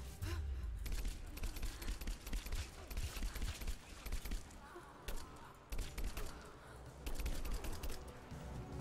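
Rapid bursts of assault rifle fire in the video game Rise of the Tomb Raider, dense and loud, with a player talking over the shooting.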